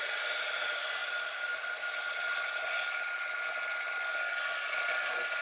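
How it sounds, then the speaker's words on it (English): A heat gun blows a constant loud, even whoosh of hot air while heating metal for jewelry soldering, steady throughout with no breaks. "I am going to take the heat gun and I am going to heat up"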